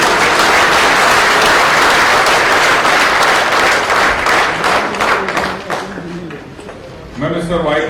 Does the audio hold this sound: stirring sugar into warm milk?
no